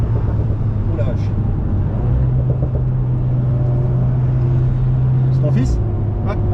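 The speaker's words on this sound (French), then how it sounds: "Il y a ma voiture qui passe." At the Magny-Cours circuit, a race car passes with a loud, sustained engine drone that holds steady and then drops away, while people talk nearby throughout.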